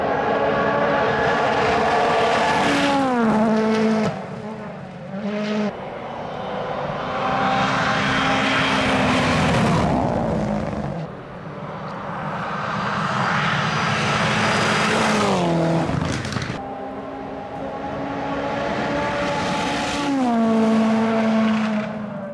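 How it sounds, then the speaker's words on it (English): Rally cars on the Malton Forest Rally Stages roar past one after another at high speed, each loud engine note rising and dropping in pitch as it nears and fades, with brief lulls between passes. "We've got some much faster cars that are going to be flying by in the next few minutes."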